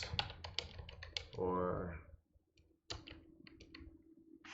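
Brief bursts of computer keyboard typing at close range during a web search, with quick clicks separated by pauses and a short stretch of speech in between.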